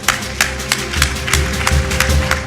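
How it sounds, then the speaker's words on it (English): Close audience applause at an Atlanta Business League year-end review event. A few people clap unevenly in loud, distinct claps, with a steady hum underneath. "This president deserves a round of applause for that."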